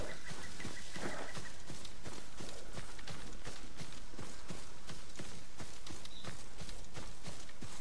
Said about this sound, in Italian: Qua scendiamo un po' a cavallo